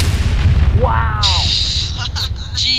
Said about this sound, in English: Who shot an RPG at it?